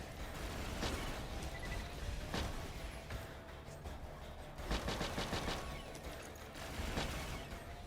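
Slag weapon gunfire in the video game Borderlands, loud rapid bursts of automatic shots that come in repeated volleys with short pauses between them.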